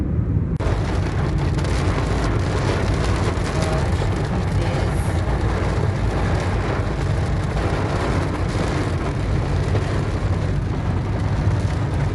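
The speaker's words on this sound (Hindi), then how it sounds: "बारिश स्टार्ट हो गई" Heavy rain pours down in a dense, steady roar, loud and unbroken from start to finish.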